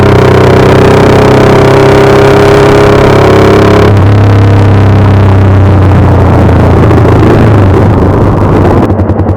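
A Yamaha R15 V4 motorcycle fitted with a changed exhaust runs loud and close, holding a steady droning tone that then shifts to a lower, rougher note with a deep, throaty exhaust rumble.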